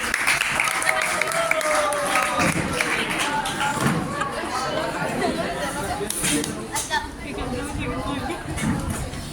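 Audience at a college fresher's party in Zaheerabad applauds to welcome a student game host, clapping mixed with lively chatter, cheers and voices throughout.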